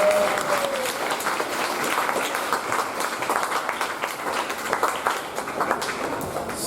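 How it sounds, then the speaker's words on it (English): A crowd claps in a sustained round of applause, fairly loud and even, a dense patter of many hands with a faint whistle-like tone at the very start. "Now give another round of applause for that."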